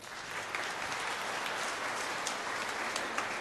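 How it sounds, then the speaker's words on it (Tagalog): Congregation at a church homily service clapping loudly together, a dense, sustained wash of applause from many hands filling the room steadily throughout. "Pumalakpak ng malakas."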